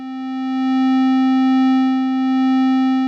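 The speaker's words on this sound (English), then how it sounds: "I'm going to take the base of the Sonicare toothbrush, and I'm going to put it right up to the pickup" The base of a Sonicare toothbrush is held against a guitar pickup, giving a loud, steady electric hum. The tone is pure and sustained, with a slight swell in volume and no talking.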